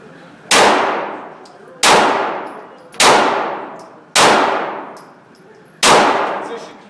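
Five loud, ringing metallic clangs from 9mm handgun rounds striking steel targets, spaced a little over a second apart, each with a sharp onset and a long decaying ring.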